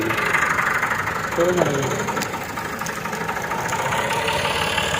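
A tractor engine runs steadily at a rumbling idle to power a sugarcane juice crusher in a village, a close, continuous drone with light knocking and people talking over it.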